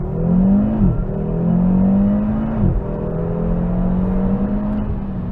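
An Audi RS3 accelerating hard onto a Greek motorway, engine note rising steadily through the gears with distinct drops at each shift, loud and close from inside the car with no talking.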